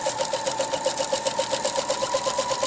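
A sewing machine runs a steady zigzag stitch joining lace to silk puffing, its rapid even needle clatter repeating at a quick regular rhythm, close and fairly loud with no talking.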